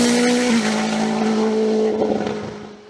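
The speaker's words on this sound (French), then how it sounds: "Sébastien Petit inauguré à Abrèchevillers une toute nouvelle Nova Proto NP01 litre 7 turbo 2 roues motrices" A Nova Proto NP01 race car with a 2-litre turbo engine and two-wheel drive blasts past at a hillclimb, its loud, high, sustained engine note holding steady and then fading away at the end.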